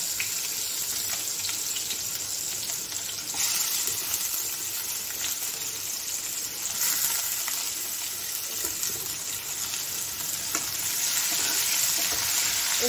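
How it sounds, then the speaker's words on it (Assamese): Chopped onions and bay leaves fry in oil left from frying fish, a dense, even sizzle that holds steady throughout, close and loud with occasional faint stirring and no talk. "পিঁয়াজখিনি অকণমান অকণমান ভজা ভজা হৈ আহিছে"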